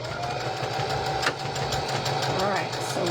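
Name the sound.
sewing machine stitching fabric pear craft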